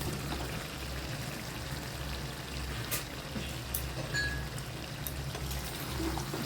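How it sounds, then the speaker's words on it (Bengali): Fried potatoes go into a simmering Bengali fish curry of snakehead fish in a pan, and a soft, steady sizzle of oil and sauce carries on throughout, with a few faint clinks and stirring sounds and no talk. "এবার আমি এর মধ্যে দিয়ে দেবো ভেজে রাখা আলু।"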